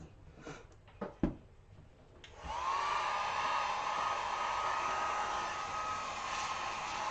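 A hair dryer starts up after a few handling knocks and runs steadily, close and fairly loud, blowing on wet paint on a flamingo door hanger.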